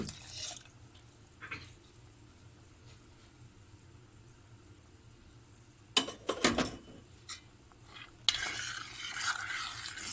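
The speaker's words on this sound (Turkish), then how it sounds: "Hemen karıştırıyorum." Dissolved cornstarch is stirred into cherry tart filling in a pan, quiet scraping with a few sharp clinks of the utensil against the pan and a louder burst of stirring near the end.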